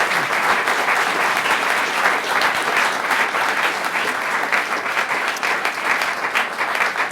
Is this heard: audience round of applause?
yes